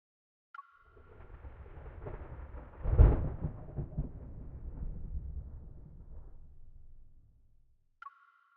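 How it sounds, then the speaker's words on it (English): Thunder in the video game Love and Deepspace, a deep rumble that builds to a loud crack partway through and then rolls on and fades slowly, with a soft chime at the start and end. "That sounded like thunder."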